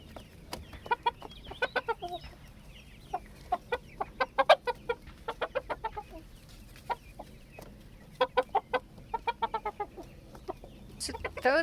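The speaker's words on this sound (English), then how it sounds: "So those are our two Ayam Samani chickens. We have one rooster, one hen." Two Ayam Samani chickens, a rooster and a hen, cluck in short, bursty runs of sharp calls with brief pauses between, fairly close and clear over a quiet farmyard background.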